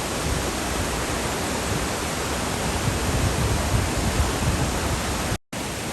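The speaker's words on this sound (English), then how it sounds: "we are in the final descent before getting to the waterfall" A waterfall pours as a steady, dense roar of broadband rushing water at constant loudness, with no voices and only a brief dropout near the end.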